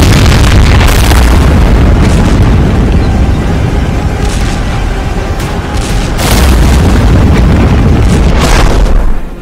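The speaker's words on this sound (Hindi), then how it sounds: "यूक्रेन में सीरियल धमाके हो रहे थे" Heavy booming serial explosions go off one after another in Ukraine during the war, loud deep blasts with rumbling between them, several big bursts across the stretch.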